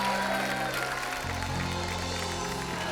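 Studio audience applause on a comedy talk show set welcoming Deepika Padukone, a steady dense wash of clapping filling the whole stretch with music playing underneath.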